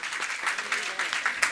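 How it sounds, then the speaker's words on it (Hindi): Applause from an audience at a Jain spiritual discourse gathering, a short burst of clapping with uneven swells and voices mixed in. "एक बार जोरदार तालियां"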